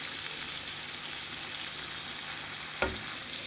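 Chicken puttanesca in a pan with oregano, a steady close sizzle of frying and stirring throughout, with one brief sharp clatter near the end.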